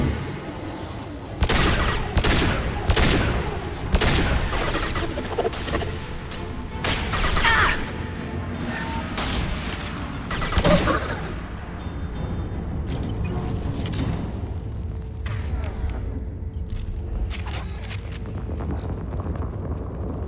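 Bursts of gunfire in the video game Mass Effect 2, a cluster of sharp loud shots early on, then scattered shots and impacts over a steady low background hum.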